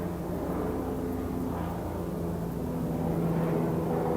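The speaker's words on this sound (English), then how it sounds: "I do want to take a minute, as I always do, to acknowledge our big helicopter coming over here" A big helicopter passes overhead during an outdoor swearing-in ceremony, a loud, steady, broadband engine and rotor roar that fills the whole stretch without talk.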